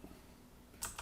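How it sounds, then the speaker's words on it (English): Two quick clicks of a computer keyboard sound close and soft near the end of a second of quiet room tone. "I'm just going to type URI.parse"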